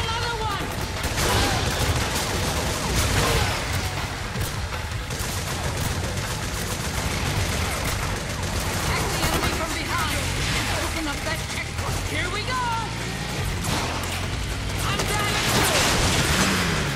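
Sustained gunfire in Metal Gear Solid 4 as barrels are shot, a dense, continuous fusillade of rapid shots and crashing impacts layered with game music and effects, loud throughout.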